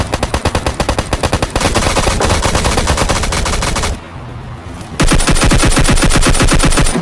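Rapid automatic gunfire from the video game PUBG Lite rattles loudly in dense, continuous bursts, with a brief quieter pause before another close, sustained volley.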